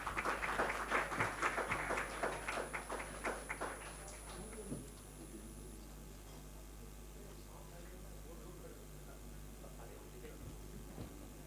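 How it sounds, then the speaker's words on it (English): A large audience at the Samaavesh Global ESG Summit 2023 claps for a Padma Shri awardee during a felicitation. The dense, loud applause lasts about four seconds, then fades into a quiet room hum. "Can we have a huge round of applause for Padam Shri?"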